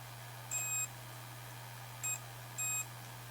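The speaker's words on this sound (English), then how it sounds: "So we should get a beep from the frame." A multimeter's continuity tester gives three short electronic beeps as probes short against the carbon frame of an Eachine Lizard 95 FPV drone, clear over a steady low electrical hum.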